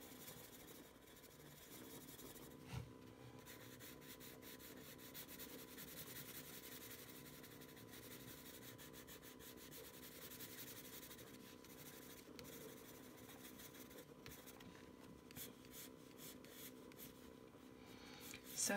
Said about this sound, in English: Sometimes I even colour with the side of the pencil just to make it an even softer, smoother